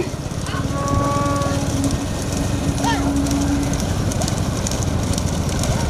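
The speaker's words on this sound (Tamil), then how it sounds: "முதலாவதாக வந்து கொண்டிருக்கிற மாடு" Racing bulls in a Tamil village bull race pound past amid a dense, continuous crowd roar and rumble, with a commentator talking over the scene and a few faint moo-like calls.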